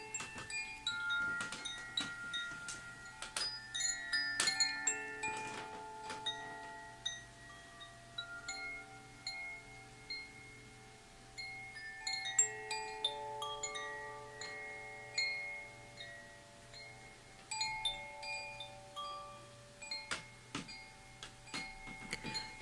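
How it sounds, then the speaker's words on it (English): Sustained bell-like tones from a water bell ring out softly, with scattered clear struck notes overlapping and slowly decaying into each other at low level. "I just want to listen to the bell of water, which sounds like this"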